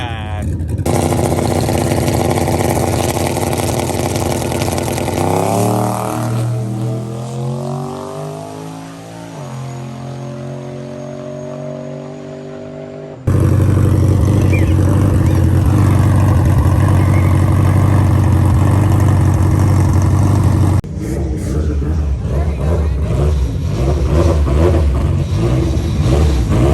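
LS-swapped turbo Mazda Miata at a drag strip, engine revving loud and close with rising and falling pulls, a rough idle between bursts and people talking over it.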